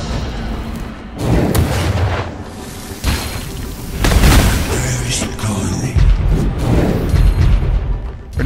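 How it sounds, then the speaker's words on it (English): Explosions, booms and crashing blasts from combat in the fantasy video game Lichdom: Battlemage, loud and dense throughout with several sharp bursts, under a mix of game effects and faint voices. "Oh, that just caused you to explode."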